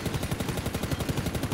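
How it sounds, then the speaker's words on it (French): An M4 rifle firing full auto in the video game Ring of Elysium, a rapid unbroken burst of loud, evenly spaced shots at a fast cadence, close and punchy. "je vais vous montrer le recul avec la M4"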